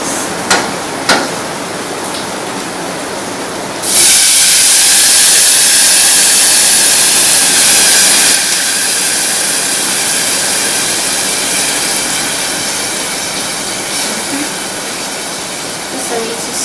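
Stock is poured into a hot wok of Chinese fried rice, setting off a sudden loud, sustained sizzling hiss that gradually eases, with faint clinks of the rice being mixed.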